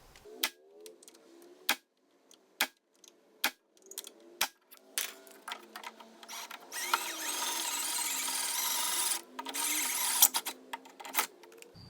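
Drilling out a rivet in the door of an AMC Eagle during a power window motor replacement: a sharp metallic tick or two, then a sustained whine of the drill biting for several seconds, a short pause, and a last burst ending in clicks.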